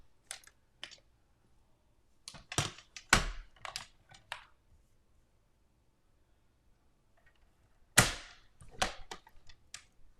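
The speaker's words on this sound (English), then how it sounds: "I took it to my trimmer and I trimmed it down" A paper trimmer blade clicks and slides as it cuts card stock for a handmade birthday card, heard as a few sharp, close snaps in two short bursts separated by quiet.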